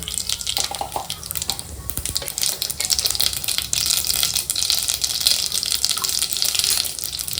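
Mustard seeds crackle and sizzle in hot oil for a South Indian vada sambar tempering, a dense steady hiss with scattered pops, close and fairly loud throughout with no talking.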